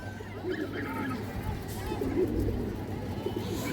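Pigeon cooing from purebred birds on a farm, soft and continuous through a busy background of babble and bird activity, lasting a few seconds.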